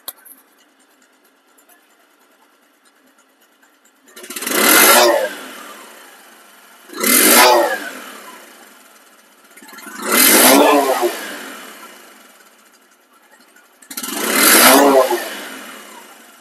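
Bajaj Discover motorcycle engine revved in four loud, separate bursts, each swelling and falling away, with near silence between them.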